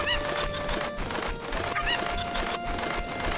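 Chickens cluck in Zelda: Ocarina of Time, in Kakariko Village, with repeated short squawking calls over a dense, continuous game background of music and ambience.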